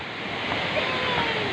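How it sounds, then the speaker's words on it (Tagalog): Cold water flowing at the foot of a mountain where a family bathes, a steady broadband rush of stream noise with no clear breaks, close and moderately loud. "Dito na yung tubig"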